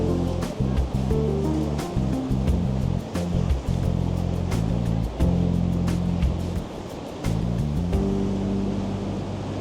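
Stormy sea surf pounds steadily at Porthleven harbour in Cornwall during high wind, a loud continuous roar of crashing waves with dense spray noise throughout.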